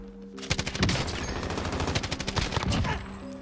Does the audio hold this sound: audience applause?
no